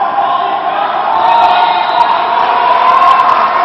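Sideline crowd at a Mexico versus Canada dodgeball world championship match in Cancun cheering for Canada: a steady, loud wall of shouting and whooping voices, sustained without pause.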